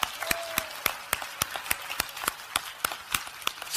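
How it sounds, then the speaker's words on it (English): Church congregation clapping in a steady, loud, evenly spaced rhythm, sharp claps repeating roughly every third of a second with no talk over them. "Let's give a good clap to Pastor Elizabeth."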